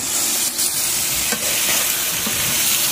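Meat is stirred and fried in a pan in a rural home kitchen: loud, close sizzling with scraping stirs over a short stretch, and no voices.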